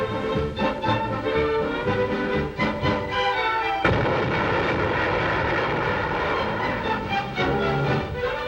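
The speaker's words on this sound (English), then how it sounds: "Soviet ships fire depth bombs and find their fatal mark." Soviet ships firing depth bombs, heard on an old WW2 newsreel soundtrack as rumbling booms with a heavy blast near the middle, over continuous engine-like drone and music, loud and muffled.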